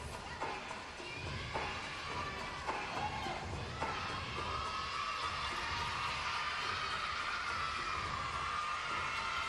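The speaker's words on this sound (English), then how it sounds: "I'm sure there are some screaming fans" A crowd of fans screaming and cheering at a women's gymnastics meet, the 2010 US Classic, a steady distant roar with scattered shouts and bursts of applause throughout.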